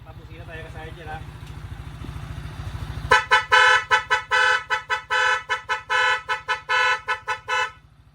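A rapid series of loud, short horn beeps repeats in an uneven rhythm over an idling engine, following a few seconds of quieter background noise.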